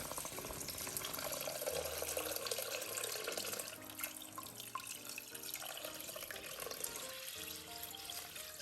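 Six cups of beef broth pour steadily into a Staub La Cocotte 5.5-quart pot for French onion soup, a continuous close splashing gush that settles into gurgling as the liquid fills.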